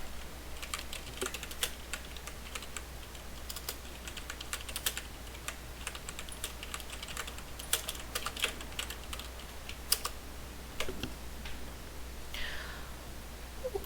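Code being typed on a computer keyboard, a quiet, steady stream of close key clicks with uneven rhythm over low background hum.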